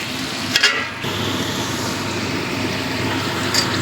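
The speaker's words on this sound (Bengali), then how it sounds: "সাদা জিরে দিয়ে ভালো করে কষিয়ে নিয়েছি" Shrimp curry with cumin sautéing in a pan, a loud, steady close-up sizzle and hiss with a couple of brief utensil clacks near the start and end.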